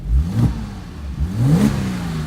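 A 2008 Porsche Cayman S engine runs up close, revving up twice in rising surges and settling back to a steady idle between them.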